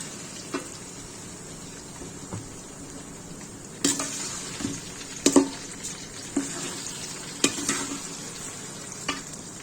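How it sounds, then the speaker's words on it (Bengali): Onions fry in a pan on a stove for a large pot of pulao, a soft continuous sizzle broken by several sharp clatters of a spoon stirring against the pan. "পোলাওয়ের পেঁয়াজটা ভেজে নিচ্ছি।"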